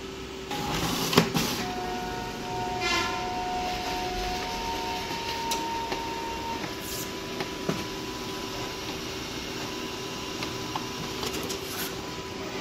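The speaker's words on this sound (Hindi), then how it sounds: "ये अभी प्रिंट ही आया था" A Xerox DocuColor 250 colour printer works through a page with a steady mechanical hum and whine, punctuated by clicks, clunks and brief rolling feed sounds, close by and without talk.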